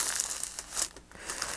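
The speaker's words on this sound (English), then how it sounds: "But these are nice, crunchy papers." Close, crisp crinkling of paper being handled, with several sharp crunchy bursts and brief pauses between them.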